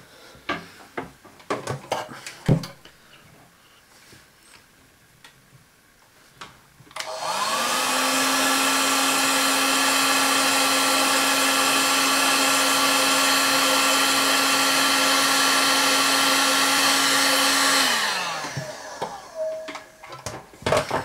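A heat gun blows hot air onto heat-shrink tubing over a MagSafe charger cable, a loud steady whine switched on for about ten seconds then winding down, with handling clatter before and after.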